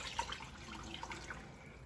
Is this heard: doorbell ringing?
no